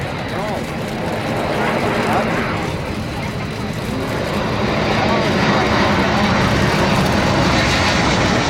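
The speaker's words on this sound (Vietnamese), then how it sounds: "Bây giờ chiếc máy bay đã được đài kiểm soát không lưu cho phép hạ cánh xuống đường băng 25 phái." A Boeing C-17 military transport plane lands on a runway, its engines giving a loud continuous roar that holds steady and swells slightly toward the end.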